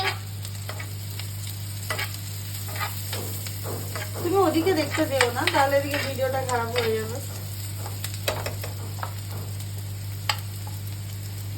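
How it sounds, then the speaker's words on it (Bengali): Food frying in onion butter in a pan gives a soft, steady sizzle under a constant low hum, with occasional stirring scrapes while a person talks briefly in the middle. "এখন ভাজা হচ্ছে অনিয়ন বাটার দিয়ে"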